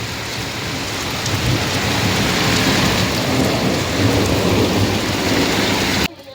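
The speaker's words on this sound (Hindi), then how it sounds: "ये देखो बहुत तेज़ बारिश हो रही है।" Heavy rain pours down on a mountain village with rumbling thunder, a loud, steady, dense downpour that roars without a break before stopping abruptly near the end.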